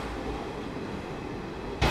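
A passenger train pulls in at platform 1 of a station, running over two hours late, with a steady close rumble of carriages rolling past and a sharp clatter near the end.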